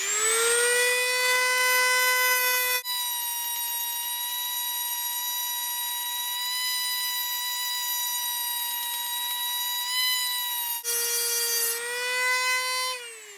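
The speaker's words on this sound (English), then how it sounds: "if you're going to use a Dremel with one of these, or any other style cutting wheel" A Dremel fitted with a cutoff wheel runs at high speed, giving a loud, steady whine with a bright overtone stack that holds for several seconds, drops in pitch as the wheel loads up in the cut, then rises again near the end.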